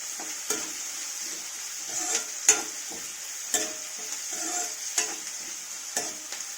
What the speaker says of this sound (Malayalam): വഴന്ന് കിട്ടാൻ വേണ്ടിയിട്ട് അല്പം ഉപ്പൂടെ ചേർക്കാം. നല്ല ഇളക്കി കൊടുക്കുക.